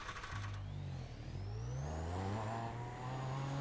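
Super Formula Lights open-wheel race car in iRacing, engine revving up through the gears with rising tonal whine, loud and steady, close-up with no talking.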